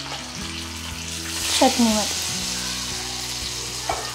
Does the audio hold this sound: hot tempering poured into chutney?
yes